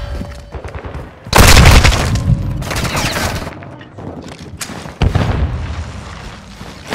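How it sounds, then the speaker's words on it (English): Cluster mine explosions in Call of Duty: Modern Warfare II go off as a heavy close boom followed by a ragged string of smaller blasts, then another sharp detonation a few seconds later. "Cluster mine deployed."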